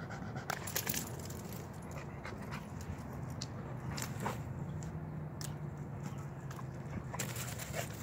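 A dog gnaws and crunches on a bone nearby, with irregular biting and cracking sounds repeating over steady low background noise, no talking.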